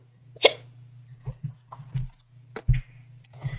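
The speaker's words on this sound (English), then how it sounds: "Oh, I got hiccups." A person hiccups several times, with one sharp, loud hiccup early on and softer catches after it, over a steady low electrical hum.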